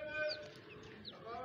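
Chickens and chicks on a home poultry setup cluck and cheep softly in the background, with a few brief high calls over a faint, steady ambience.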